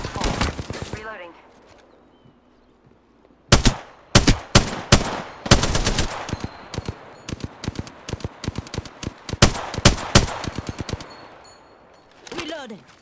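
Video game gunfire in bursts: clusters of loud, sharp rapid shots separated by brief pauses, with a quieter spell before the firing starts, plus faint voices.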